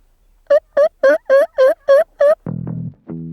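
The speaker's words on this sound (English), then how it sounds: "That is a hen turkey right on the rocks. I just heard her." A wild hen turkey calls loudly and close by from rocks outdoors with a rapid series of seven sharp yelps, then a lower, harsher drawn-out call and a short final note.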